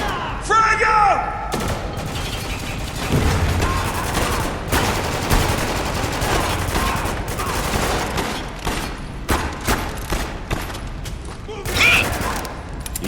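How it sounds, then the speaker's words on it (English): Gunfire in Spec Ops The Line video game, dense fusillades of rifle and machine-gun shots with booms and mechanical clatter, loud and continuous, with voices shouting over the battle. "We're taking some big fire here!"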